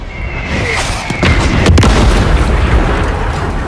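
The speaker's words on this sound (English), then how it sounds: "Mortar team dispatched." Heavy booming mortar explosions from a strike in the video game Call of Duty Modern Warfare III rumble loudly and continuously, with a sharp burst near the middle amid dense battlefield noise.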